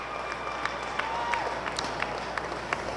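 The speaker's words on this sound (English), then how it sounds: "As the fans are still cheering him on, giving him plenty of encouragement here" A crowd of fans cheers and claps steadily for an athlete at a wheelchair slalom, a distant, even wash of applause with scattered sharper claps.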